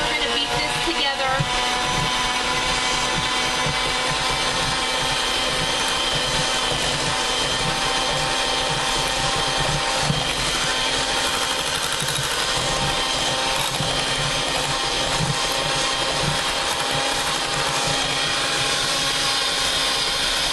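An electric mixer beats batter with lemon juice in a mixing bowl, a loud, steady motor whir that runs unbroken from start to finish.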